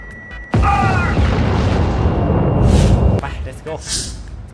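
A sudden loud bomb blast in the video game Helldivers bursts in and roars on for several seconds as a rumbling, crackling wash, then cuts off, followed by brief electronic chirps.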